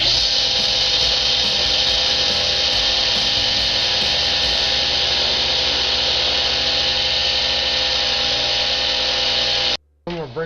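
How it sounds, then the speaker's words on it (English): Power wire wheel cleaning old rubber off broken Honda blinker pieces, a loud continuous high-pitched whine and grinding rasp running steadily for about ten seconds before cutting off abruptly. "I'm going to wire wheel them and get them clean"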